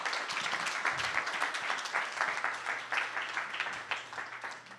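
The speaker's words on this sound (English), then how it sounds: "big round of applause for John." Audience applause at an amateur radio digital communications conference session, a dense steady wash of many hands clapping for about five seconds, moderately loud with a faint low hum underneath and no talking.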